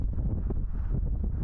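Strong, gusty wind over the Potomac River near Gravelly Point, where a windsurfer crosses choppy currents, gives a steady low rumbling buffet close to the microphone through the whole short stretch.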